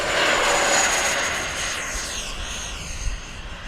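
An E-flite SU-30 twin 70mm electric ducted-fan RC jet roars past overhead, its loud whining jet tone sweeping down in pitch as it passes and then easing off as power comes back.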